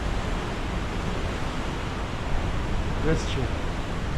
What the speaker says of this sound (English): Look how rough it is, huh? It's around 2 meter waves.